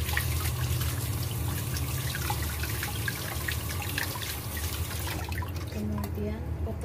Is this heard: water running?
yes